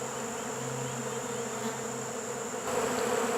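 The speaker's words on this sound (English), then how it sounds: "there are a ton of bees in my backyard right now." A dense swarm of honey bees buzzes continuously, a steady droning hum filling the air without pause.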